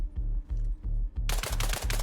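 Low rhythmic thumping gives way to loud, rapid bursts of gunfire crackling close by in the video game Arma Reforger.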